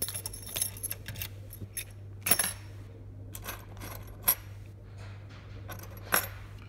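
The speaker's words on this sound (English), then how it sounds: "So I'll just put the keys in there," A set of keys goes into a Brisant Ultion 3-star lock cylinder with small metallic clicks and jingles, spaced out in a few sharp bursts over a low steady hum, close up and with no speech.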